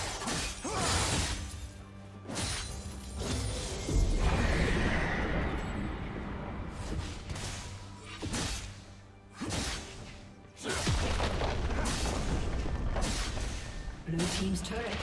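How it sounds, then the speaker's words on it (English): A turret being destroyed in a League of Legends match: loud, repeated crashing and shattering impacts with whooshes and booming hits, layered under an announcer's voice and game effects. "Red team's turret has been destroyed."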